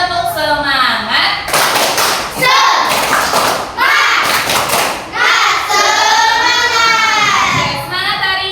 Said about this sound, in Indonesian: Marilah kita sama-sama tepuk semangat dulu. 1, 2, 3, tepuk semangat.